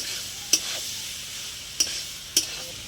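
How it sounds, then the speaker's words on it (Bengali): Green jackfruit and potato sauté in a spice paste in hot oil with a soft, steady sizzle, while a spoon scrapes and stirs the pan in three quick, distinct strokes. "এঁচোড় আলু মশলাটা আরও একটু ভালো করে কষিয়ে নেব।"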